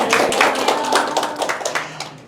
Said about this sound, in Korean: 제 예상보다 박수 소리가 좀 작은 것 같은데